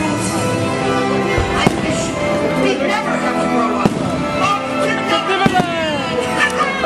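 Fireworks burst during the Disney Wishes nighttime show, several sharp booms over a dense crackling and musical background, with voices and singing mixed in.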